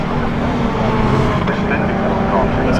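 750 Motor Club race cars circulate at Brands Hatch, a continuous loud engine roar filling the scene with a commentator talking over it.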